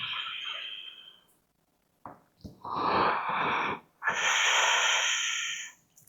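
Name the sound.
deep inhale and exhale during yoga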